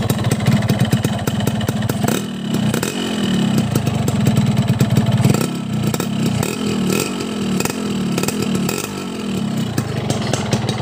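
A loud, cold two-stroke motorcycle engine with an aftermarket ASAP exhaust idles and revs close up, with a raspy, crackling exhaust note rising and falling in several throttle blips.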